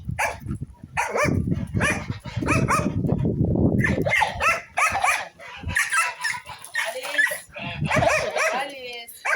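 A poodle barks in a cluster of quick yaps early on, then people talk over a busy outdoor village background in Amasya, Turkey, with occasional further yips.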